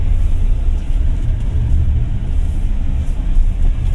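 Steady low road rumble and engine drone inside a Jetour Dashing SUV as it is driven through a slalom course, a continuous muffled cabin noise with no voices.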